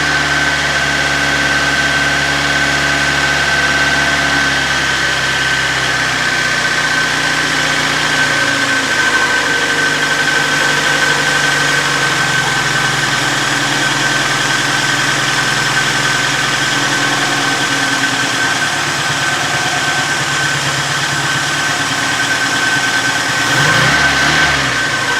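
A Mobility Kadett car engine idles steadily while its carburettor idle is being adjusted: a continuous, close rumble with a thin whine riding on top, holding even throughout with a slight shift near the end.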